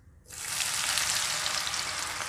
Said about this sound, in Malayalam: ആ ചെന ഇതിൽ നന്നായിട്ട് നല്ല തിളച്ച എണ്ണയിലേക്ക് ഇട്ടിട്ടാണ് ഫ്രൈ ചെയ്തെടുക്കുന്നത്